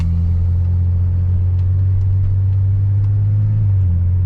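A car rumbles along at low speed from inside the cabin, a steady droning engine and road noise heard close and loud, with a slight change in pitch near the end.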